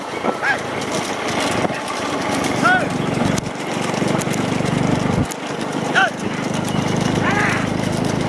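Cattle pulling carts in a village bullock cart race, rapid hoof clatter and rumbling run with shouting voices and a commentator talking over it throughout, loud and busy.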